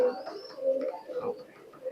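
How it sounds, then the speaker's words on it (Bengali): Teddy pigeons coo softly at close range in a short run of low, throaty, rolling calls. "কবুতরটা দেখেন কোয়ালিটি দেখেন টপ কোয়ালিটি একটা কবুতর"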